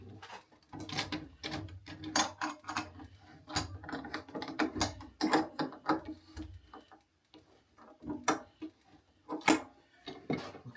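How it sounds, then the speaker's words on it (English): Bar clamps are ratcheted tight across a wooden table top glue-up, giving close, irregular clicking and mechanical creaks that come in short bursts with brief pauses. "So as I'm tightening these ones, I'm pressing down."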